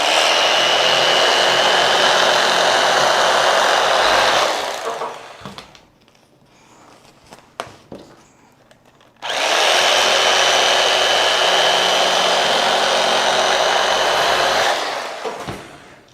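A knife saws through the domed mushroom top of a white loaf baked in a bread machine. The cutting sounds like a loud, steady rasp for several seconds, pauses, then comes back just as loud.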